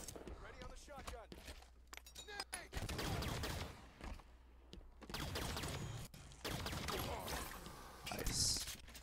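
Shotgun blasts in the video game Halo 5, a series of sharp, loud reports scattered through several seconds of in-game action, with a voice talking over the gunfire.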